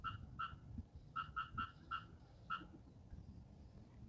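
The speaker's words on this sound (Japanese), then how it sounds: "聞こえますか？ カエルの鳴き声が。" After rain beside a garden pond in Osaka, a frog gives a run of short, sharp croaks in uneven clusters, moderately near, then falls silent. Soft low background noise sits underneath and no one speaks.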